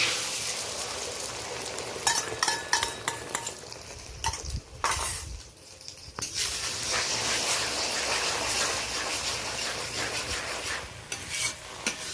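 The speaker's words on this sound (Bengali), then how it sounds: "6 পিস ডিম নিয়েছি, এইভাবে নাড়াচাড়া করে ডিমের কিমাটা বানিয়ে নেব।" Six beaten eggs fry in hot oil as a utensil stirs and scrapes the pan in quick bursts over a constant sizzle, heard close with no talking.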